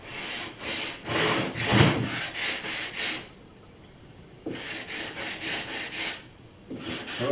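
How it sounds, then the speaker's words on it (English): Hand chamfering of wooden edges for a waterfall reservoir build: repeated rasping strokes of a file or sanding block on wood, close and rhythmic, with a short pause midway before the strokes resume. "I like to put a chamfer on all the edges."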